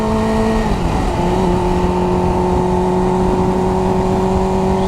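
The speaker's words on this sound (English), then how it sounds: "I don't know what this car is doing, but he has been on my ass this whole ride." A car drives close behind a motorcycle out on the road, with a steady engine drone and a loud whir that shifts pitch early on. The sound carries on continuously and nobody talks.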